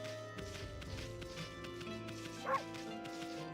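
Amaterasu, the white wolf in Okami HD, gives short yipping barks over steady game music, with a brief louder yelp standing out partway through.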